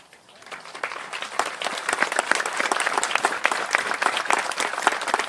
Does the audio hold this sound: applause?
yes